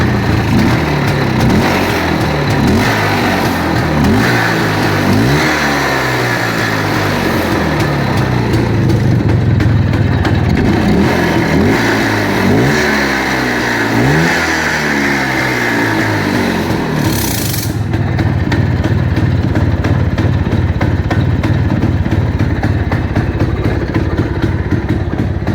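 A motorcycle engine in Fergana, Uzbekistan, the bike identified as a Planeta 4, revs repeatedly in rising and falling surges with a rough, clattering tone, then settles into a steady close idle.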